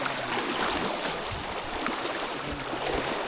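A deep river rushes past in a steady, loud wash of water that fills the whole stretch with an even roar and no voices.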